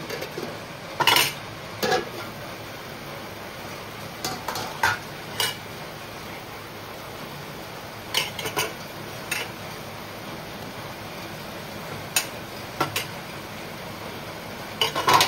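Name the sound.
stirring fenugreek leaves stir fry with grated coconut in pan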